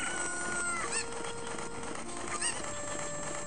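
Chickens cluck and cackle in Zelda: Ocarina of Time, with a couple of brief squawks over layered game music, fairly close and clear.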